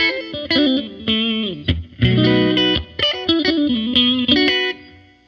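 PRS Swamp Ash Special electric guitar on the neck and middle pickups, playing phrases with a glassy, in-between tone and chorus-like shimmer, alone with clear sustained notes.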